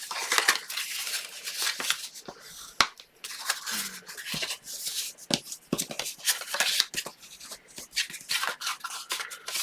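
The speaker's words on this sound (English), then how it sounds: "So now we're just going to fold on these score lines." Scored cardstock being folded along its score lines by hand, a run of crisp creasing, rubbing and crackling paper sounds in bursts with short pauses, close and fairly loud.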